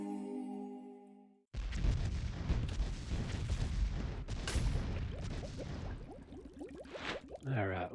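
A loud, booming video game cannon blast, fired at a ship, erupts after a brief quiet tone, followed by a long rumbling roar and crackling debris that trails off with squelchy bursts.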